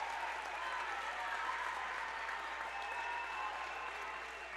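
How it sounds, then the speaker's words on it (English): Crowd applause in a high school girls basketball gym as seniors are honored during a Hiland Hawks vs Tusky Valley Trojans game, steady dense clapping sustained throughout at moderate distance. "his seniors are going to get a well-deserved round of applause"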